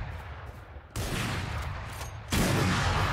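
Gunfire from the shooter game Valorant, a dense broadband barrage that jumps louder at about one second and again near 2.3 seconds, sustained and close with no talk over it.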